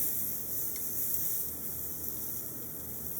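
Lamb chops cook on a grill at lower heat, giving off a soft, even sizzle. The crackling hiss is faint and continuous with no voices over it.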